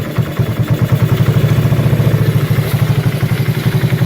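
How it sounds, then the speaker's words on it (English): A 1984 Kawasaki Prairie KLT250 ATV engine, running lean with no air filter, idles with a steady fast low thump and irregular pops back through the carburetor, close and loud throughout. "that thing sounds damn good. That popping back through the carb."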